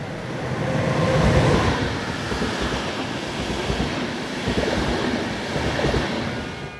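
A train rumbles past a station platform with a steady, loud roar and faint clattering of wheels on track, continuous throughout without any talking.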